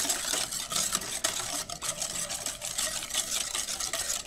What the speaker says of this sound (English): And now it's whisk to combine it all.